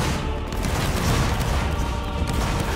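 A musket volley in a Roblox Napoleonic Wars battle, heard as a dense, continuous roar of overlapping gunfire, loud and sustained throughout with no clear gaps between shots.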